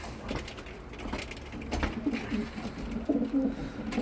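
Racing pigeons coo in soft, low, throaty bursts close by, repeating over quiet background noise, with no talking.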